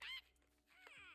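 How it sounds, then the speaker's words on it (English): A chicken in the LEGO Fortnite video game gives a couple of short, nasal clucking calls, close and fairly quiet, with no talking over them. "No, it's a chicken."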